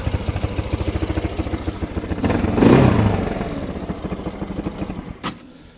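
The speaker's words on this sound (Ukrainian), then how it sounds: "Знову трохи холостий ход додали хлопці." Engine of a Spark SP200-4 quad bike idling and revving on a cattle farm, a steady rapid chugging that swells into a louder rev midway before settling back.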